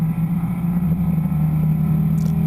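A race car at the California Festival of Speed accelerates hard out of a turn toward a chicane, its engine a loud, steady, close droning roar with no voices.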